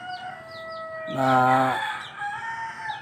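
A chicken clucks in short calls, then a rooster crows loudly at close range in one drawn-out call, followed by softer clucking, with a brief spoken word at the start.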